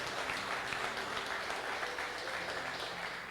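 A church congregation applauds together, a steady wash of clapping that holds evenly for a few seconds with no pauses and no speech over it.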